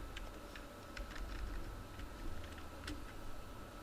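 Quiet computer keyboard typing while code is written in JavaScript: light, scattered key clicks in irregular bursts over a low steady room hum, no voice.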